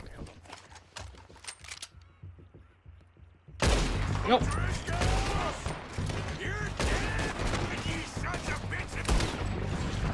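Gunfire in Red Dead Redemption 2: a few scattered shots at first, then a sudden burst into a loud, sustained volley of overlapping gunshots with game sounds, while a voice speaks briefly.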